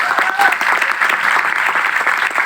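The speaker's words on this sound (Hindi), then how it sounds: "एक बार जोरदार तालियां धर्मेंद्र मान सर के लिए" Audience applause for a senior guest at a Team United reunion show, a dense steady wash of many hands clapping at close range, loud and continuous with no voices.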